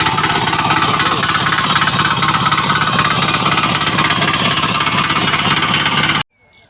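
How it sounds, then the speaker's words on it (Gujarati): A new farm machine's loud, close engine runs steadily with a rapid rattling, knocking texture, then cuts off abruptly, leaving near silence. "આ છે આપણું મશીન હમણાં આપણે ચાલુ કરીને તમને અવાજ દેખાડું સંભળાવું"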